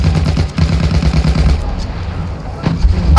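Heavy, loud battlefield din in Battlefield 1: rolling gunfire and booming blasts, with a sharp explosion from overhead standing out near the end, all dense and close.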